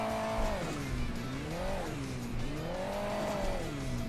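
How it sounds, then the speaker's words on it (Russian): A car engine in Hill Climb Racing 2 revs up and down in repeated rising and falling sweeps, close and steady with no break, along with faint tire noise and no talking. "Тёма, Тёма, не газуй."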